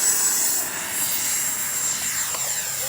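A Freewing 90mm T-45 RC model jet with take-off flaps set gives a loud, steady high-pitched turbine whine with an airy rush throughout its take-off roll, heard outdoors with no talking.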